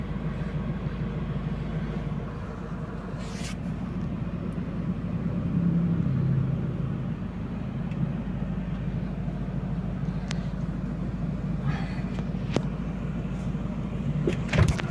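A car drives along the road, heard from inside as a steady low road rumble and engine drone, with a few faint clicks and rattles along the way.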